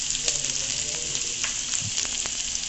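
Chopped onion and garlic frying in hot oil over a medium flame, a steady close sizzle with faint crackles and a few soft stirring taps, no voices.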